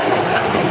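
A jet aircraft powered by a Rolls-Royce Pegasus engine of 22,000 pounds thrust performs at the Biggin Hill airshow, its roar a loud, steady, dense wash of noise for under a second.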